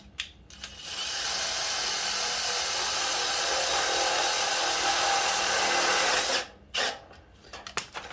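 Close, loud power drill driving a self-tapping screw into a swamp cooler water distributor, one steady whirring run of about five seconds, then brief clicks and handling noise.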